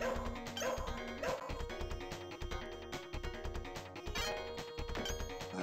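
A dog barking repeatedly in the Shadow Dancer arcade video game, sharp yips and bow-wows in quick bursts over game music and crashing effects.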